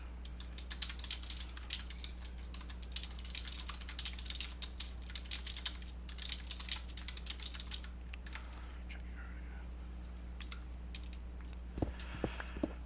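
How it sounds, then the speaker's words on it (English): Rapid, uneven clatter of keys on a computer keyboard as someone types a chat message during a Minecraft live stream, close and fairly quiet over a low steady hum, tailing off into a couple of sharper knocks at the end. "Let me type to you in the chat."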